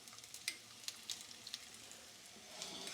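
Plantain slices spread out in a pan fry with a soft, steady crackle and scattered sharper pops, fairly quiet and close, with no voices.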